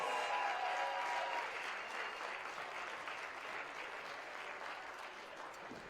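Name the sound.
audience applause for climbing podium athletes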